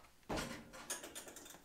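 A two-speed lathe run on a VFD gives a brief jog: a soft mechanical whir and clunk starts suddenly, then settles into faint rattling as the spindle coasts, quiet and close.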